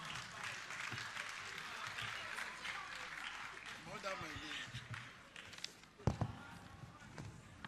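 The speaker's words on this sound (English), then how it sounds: "Please give him a round of applause." Audience at an accountants' conference closing ceremony applauds steadily for several seconds, a dense wash of clapping that thins out toward the end, with a couple of sharp knocks near the close.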